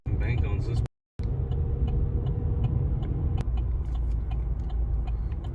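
A Polaris RZR side-by-side drives along, its engine and tires making a loud, steady rumble close by with a brief dropout, while people talk over it.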